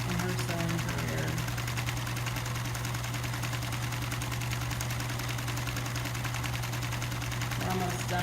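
A sewing machine fitted with a universal size 14 needle stitches backpack straps in one long, loud, continuous rattling run of rapid needle strokes over a steady motor drone, easing briefly near the start and end.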